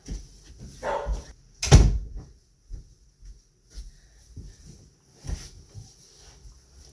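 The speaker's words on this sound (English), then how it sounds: "My dog is barking." A dog barks a few times with sharp, distinct woofs, with thuds like a door between them in an otherwise quiet room.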